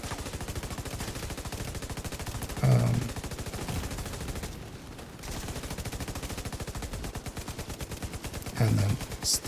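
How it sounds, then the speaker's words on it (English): Sustained automatic gunfire in a video game hammers in a fast, even rhythm, loud and close, with a short pause midway and heavier thumps, as someone speaks over it. "And then start shooting again."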